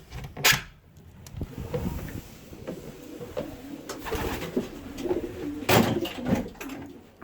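Racing pigeons in a loft coo in soft, low, repeated calls, with wing flaps, shuffling and a few sharp knocks close by.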